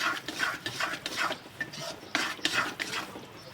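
Flour roasting in ghee for Gujarati adadiya sweet is stirred and scraped around a pan in quick rhythmic strokes, a close gritty rasping that repeats several times.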